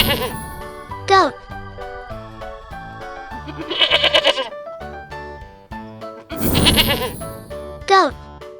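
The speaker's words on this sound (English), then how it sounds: "Goat." Goat bleats rise twice over a bright backing tune with jingling chimes, each call a loud wavering burst, with a voice nearby in a farm-animal learning song.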